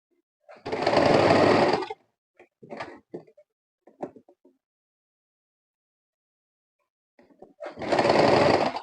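A sewing machine stitches organdy fabric for a fabric flower in two short bursts of steady whirring, separated by a pause filled with quiet clicks and handling sounds.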